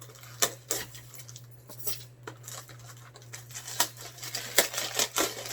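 A package of Japanese macadamia nuts being opened up close: sharp crinkles, tears and clicks of wrapping in irregular bursts, with no talking.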